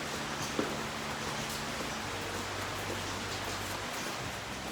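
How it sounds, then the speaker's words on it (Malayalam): Rain falls steadily outdoors as a continuous, even hiss of drops that stays at one level throughout, with no voices. "മഴയൊക്കെ പെയ്യണ്ട്"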